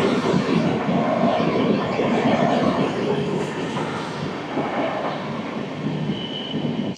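Howrah–Ranchi Vande Bharat express train passing close by, a loud continuous roar and rumble of carriages rolling slowly past, steady for the whole stretch before cutting off.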